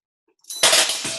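A single loud clattering crash of silverware dropped onto a metal cookie sheet, imitating window glass shattering, rising sharply and ringing out briefly.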